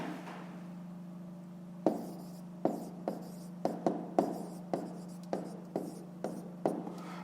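A pen taps and scratches on paper as numbers are written by hand for a fifth-grade math exercise, a series of small sharp strokes over a steady low hum, close and fairly quiet.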